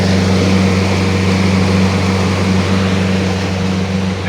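A boat engine runs on the water with a loud, steady, close droning hum that stays even throughout, with no voices.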